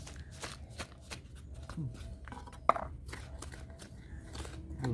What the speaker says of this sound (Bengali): মিশিয়ে নিচ্ছি দেখো ছুরি দিয়ে